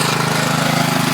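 Powermate 3250 portable generator engine running steadily at idle, a close, loud continuous drone with even pulsing, no speech.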